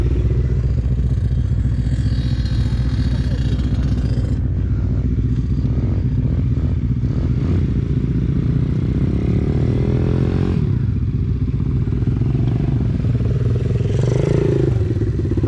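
An enduro motorcycle engine runs loud and close on a meadow, its rough, steady roar holding without break. Brief clattering and revving changes come through near the middle and end.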